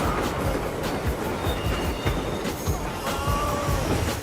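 A train rolls past on rails in a film scene, a steady loud rumble with rhythmic clickety-clack of wheels and faint metallic squeals over it, no talking.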